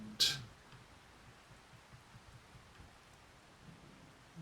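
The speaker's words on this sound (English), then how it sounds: "Still raining. Why is it still raining?" Steady rain in Farming Simulator 25 on an Alma, Missouri farm, a faint continuous patter with a brief sharp crack near the start, no voices.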